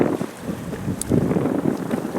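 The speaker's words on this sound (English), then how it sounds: "Still got some wind on the nose for the moment" Steady wind buffets the microphone aboard a sailboat heading out of a bay in the Ionian Sea, a broad, continuous rush with low gusty rumble and no voices.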